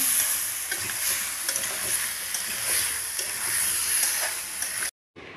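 Pumpkin fries with spices in a pan, a loud steady sizzle with scraping stirs throughout, cutting off sharply just before the end, no one talking.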